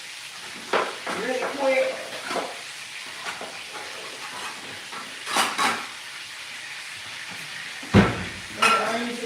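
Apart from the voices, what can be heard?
onions sizzling as they are thrown into the hot pan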